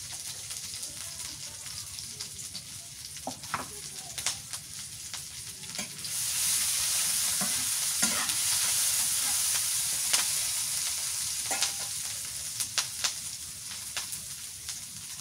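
Onion and green chili sizzle and fry in a pan, with a steady hiss that swells louder midway and scattered clinks and scrapes of stirring throughout, close and alone.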